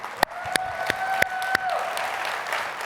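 A keynote audience at a tech conference applauds, several sharp claps over a sustained tone that fades into a wash of crowd clapping and room noise.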